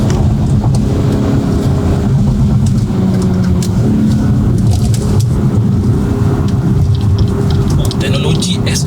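A stock BMW M340i G20 with 380 hp idles and runs with its factory exhaust, giving a loud, steady low engine drone throughout, with someone talking over it.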